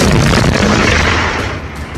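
A loud boom from a rocket strike on an oil depot in Russia, a single heavy blast whose rumble decays over a couple of seconds.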